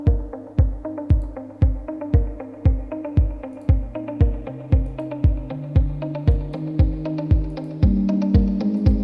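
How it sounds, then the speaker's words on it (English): Synth keys in an Afro House track play steady, evenly spaced plucked chord hits that grow brighter and fuller over about nine seconds, with a sustained tone entering near the end. "So the keys will start here."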